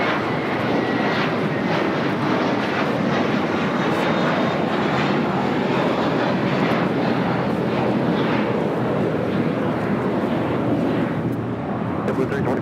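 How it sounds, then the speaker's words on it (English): A JetBlue Airbus A321 jet takes off from LAX, producing a loud, steady, broadband engine roar that fills the whole stretch without a break. "JetBlue Airways Flight 324 heading to JFK and A321 now taking off to 5 right"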